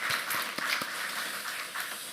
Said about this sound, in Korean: 우리 박수로 한번 격려 드리겠습니다.